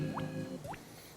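A voice imitates dripping water with two quick, rising liquid plops, spaced about half a second apart, close and fairly quiet.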